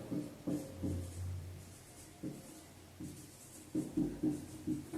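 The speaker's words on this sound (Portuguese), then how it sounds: "eu vou escrever, ó." Pen or marker writing the word taxonomy by hand, heard as short scratchy strokes in bursts with pauses between them, close and fairly quiet.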